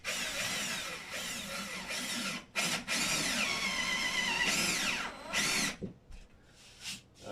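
A power drill with a 1/4 inch bit bores into a wooden wall stud, whining loudly and continuously in several bursts that briefly stop and restart, then trails off into short spurts near the end.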